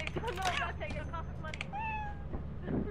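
Cat meows within the video game Lethal Company, a few short tonal cries rising and falling over busy game noise and chatter, with people talking throughout.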